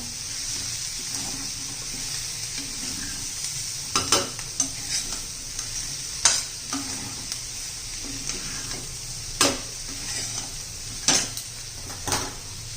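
Peas and potatoes being stirred in a pan for a spicy vegetable dish, a low background sizzle broken by repeated sharp spoon scrapes and knocks against the pan.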